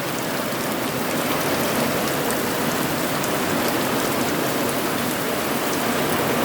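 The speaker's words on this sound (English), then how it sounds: "Overflowing them gutters. It only does that when it rains really hard." Heavy summer afternoon rain pours steadily, water overflowing the gutters in a dense, continuous, loud hiss with no breaks and no voices.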